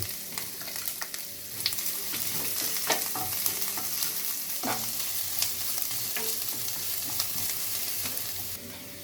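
Chopped ginger frying with chana dal in hot oil makes a loud, continuous close sizzle, broken by sharp scrapes and clicks of a spoon stirring the pan.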